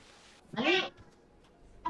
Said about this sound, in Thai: แมวร้องแมวร้อง